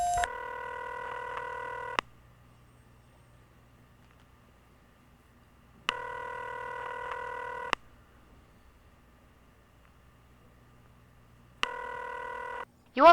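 Phone ringing in The X-Files video game on Windows: three electronic ring bursts about two seconds each, separated by long silent gaps, clear and close.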